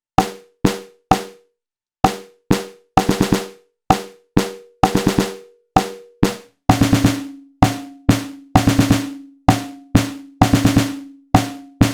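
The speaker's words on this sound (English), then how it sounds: "So this is the sound of you hitting both the head and the rim at the same time." Sequenced snare pattern from a WMD Kraken Eurorack snare module striking head and rim together, dense rhythmic hits with quick flams and rolls, growing fuller and noisier partway through, loud and dry.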